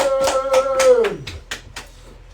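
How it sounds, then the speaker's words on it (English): A small group at a homeschool and microschool education gathering gives a few sparse, separate claps in an uneven rhythm, fading out, with a sliding voice-like tone falling in pitch during the first second. "Clap it up, everyone."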